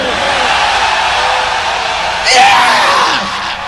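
A crowd at a live metal concert erupts into loud screaming, yelling and whooping, rising abruptly after a stretch of noisy hall ambience and sustained over amplified sound.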